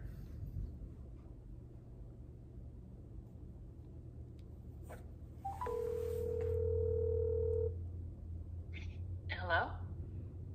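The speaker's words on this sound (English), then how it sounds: "So let me dial her real quick" Inside a moving car, a phone is dialed and a steady call tone sounds for about two seconds over a low engine rumble, with brief talk before and after.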